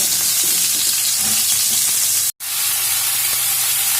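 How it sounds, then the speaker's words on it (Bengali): Pointed gourd (potol) frying in a pan, a loud, close, continuous sizzle and hiss with faint stirring, broken by one brief cut to silence partway through. "সব পটলগুলোকে দিয়ে আমি ভেজে নেব"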